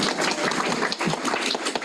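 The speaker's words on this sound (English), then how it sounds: "Everybody clap at Brian" A short burst of audience clapping in an adult Sunday school class, dense, even patter from several people lasting under two seconds.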